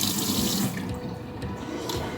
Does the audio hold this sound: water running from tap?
yes